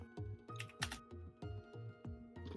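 Computer keyboard typing in rapid bursts of close, crisp key clicks, spaced by short pauses, recorded during a tabletop role-playing session.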